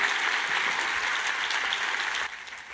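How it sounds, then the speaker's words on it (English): An audience at a meeting gives sustained applause for a speaker, a dense even clapping wash that drops in level near the end, with no talk over it. "a big hand of applause for our speaker"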